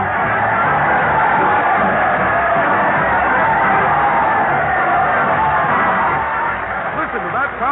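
Studio crowd cheering at an old radio broadcast of a comedy show in a town hall setting: continuous loud whoops, yells and applause-like roar, narrow and band-limited like vintage recording, with a voice briefly audible.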